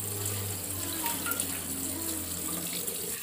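Cold tap water running over boiled cassava in a kitchen sink, a steady, moderately loud splashing stream that continues evenly throughout.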